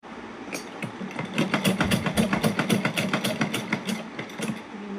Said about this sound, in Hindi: हमने 2-3 बार लगा दी है सिलाई प्लास्टिक के ऊपर।